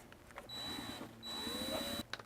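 A hand-held power drill whirs in two steady bursts of roughly half a second and a second, working close against the bumper of a Nissan Xterra while fitting a light bar, with a short pause between runs.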